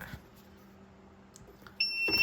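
A smart mailbox's sensor alert goes off as mail is pushed inside, a short, bright electronic beep tone starting near the end after quiet handling noises, fairly faint overall.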